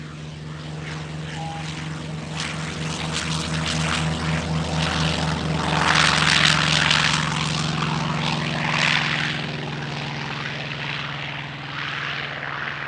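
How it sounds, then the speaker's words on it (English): An F4U-4 Corsair propeller aircraft flying at an airshow gives a loud, steady engine drone with a propeller buzz that swells toward the middle as it passes and then eases slightly, with no talk. "first up, the F4U-4 Corsair"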